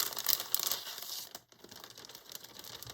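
A plastic bag is crinkled and rustled close up while craft supplies are unboxed, with busy crackling bursts and a brief pause midway.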